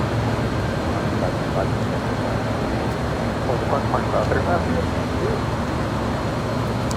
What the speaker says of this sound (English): Air Tahiti Nui, the Dreamliner.